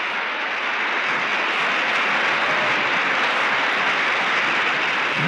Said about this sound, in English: He signals the men of the orchestra to rise and share this thickening applause with them.